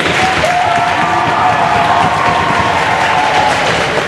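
Loud, continuous applause from an audience at a 2015 spelling bee for a contestant, a dense, even wash of clapping from many people held steady throughout.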